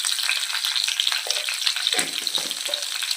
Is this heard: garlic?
yes